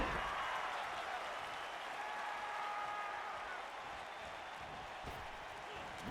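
A Japanese crowd at a pro wrestling event cheers and applauds in a broad, steady roar at moderate level, with a commentator talking over it.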